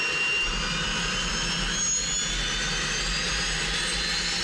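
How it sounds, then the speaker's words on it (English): Marchetti S-211 jet engine starting up toward idle, a steady loud roar with a high thin whine running throughout, heard up close with no talk. "You're gonna hear the whine as I hit the starter."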